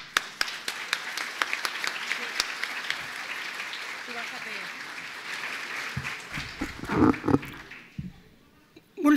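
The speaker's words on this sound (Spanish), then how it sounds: "Un aplauso grande." Sustained applause from an audience at a cochlear implant event in Uruguay, steady clapping for several seconds that thins out, with a few voices near the end.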